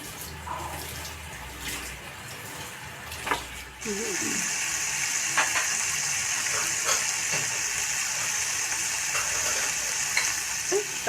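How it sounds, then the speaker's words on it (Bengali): A spice paste with Kashmiri chili frying in a pan, a soft sizzle that swells into a loud, steady hiss partway through, with brief faint voice sounds early on. "একটু ভাজবো।"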